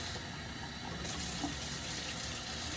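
A quarter cup of water poured into a sourdough starter, giving a steady, faint trickling wash that runs unbroken for a few seconds with no voices.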